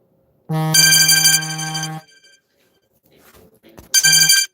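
A telephone rings loudly and close by in two bursts of a bright electronic ringtone, the first lasting about a second and a half, then a pause with faint rustling before the second ring starts.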